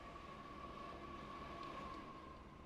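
An ore train rolls along the track in the Transport Fever 2 video game, a faint, steady rumble with a thin sustained whine running evenly throughout, no voices.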